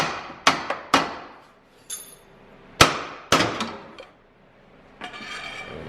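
Hammer blows striking a car's ball joint beside a pry bar, several sharp metallic clangs spaced irregularly, some in quick pairs, close and ringing, with quieter scraping and rattling between them.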